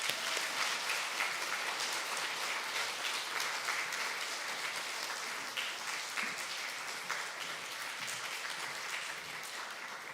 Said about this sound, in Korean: 격려의 박수로 우리 맞이하겠습니다.